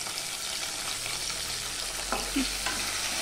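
Tomato and ginger fry in a pan with a steady sizzle, broken by a couple of scraping stirs of a spoon against the pan.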